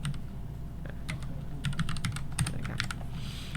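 Computer keyboard keys clatter in quick irregular bursts as code is typed for a ReactJS TypeScript project, close and clear over a low steady room hum with no talking.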